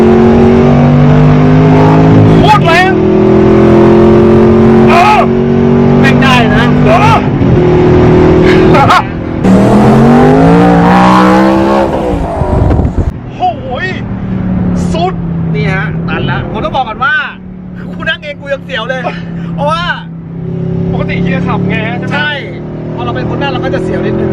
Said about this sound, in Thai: โอ้โหท่อนี้ลั่นมากจริงๆนะฮะ